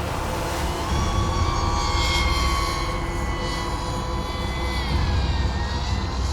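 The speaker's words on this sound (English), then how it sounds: "this Afterburner 5 is a sweet drone" An Afterburner 5 X-frame FPV drone rips through a canyon, its motors producing a loud, continuous buzzing whine with rising and falling pitch as it maneuvers, close to the camera and with no talking.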